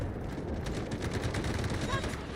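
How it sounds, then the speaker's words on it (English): Artillery barrage in the shooter game Delta Force: a dense, continuous roll of rumbling detonations and gunfire-like cracks filling the whole stretch at steady loudness, with faint voices mixed underneath. "Roger that. Artillery barrage incoming."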